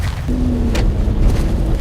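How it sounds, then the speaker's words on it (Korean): A distant hunting shotgun fires once, a dull boom rolling over steady low engine and wind rumble. "엽총소리였어 그것도."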